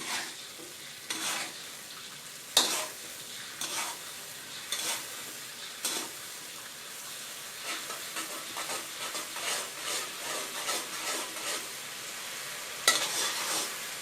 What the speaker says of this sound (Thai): พอมันเดือดแล้วเราก็ใช้ไฟอ่อนเลยค่ะ